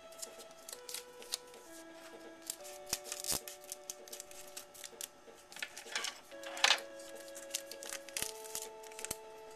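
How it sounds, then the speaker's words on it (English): Crisp, irregular snipping and rustling of paper being cut, close by, with short pauses between cuts. "I think I need to sharpen my scissors."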